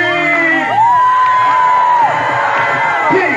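A conference audience screams and whoops loudly together at a 1994 Baha'i gathering in Green Lake, Wisconsin, with long rising and falling yells over a constant crowd roar.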